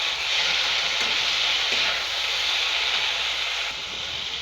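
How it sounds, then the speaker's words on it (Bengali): Potatoes and eggplant sautéing and being stirred with spices in a pan for a Bengali pui-metuli dish, a steady loud sizzle with occasional scraping strokes and no talking. "আলু বেগুন দিয়ে এটা ভালো করে কষে নেব।"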